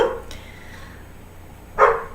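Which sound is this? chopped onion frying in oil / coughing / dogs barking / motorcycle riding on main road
dogs barking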